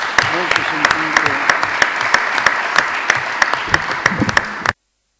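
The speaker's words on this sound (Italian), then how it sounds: "Adesso diciamo un applauso molto sentito." Warm applause from a seated audience at a conference in Rome, dense steady clapping with sharp individual claps, some brief talk underneath, ending abruptly in silence.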